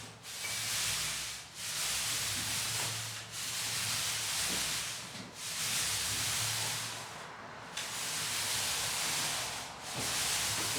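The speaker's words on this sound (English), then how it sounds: "I'm now applying a mist coat to this wall that has had extensive repairs onto it." A Purdy Marathon roller cover spreads a mist coat of paint across a repaired wall, giving a steady loud rolling hiss in long strokes with brief dips between passes.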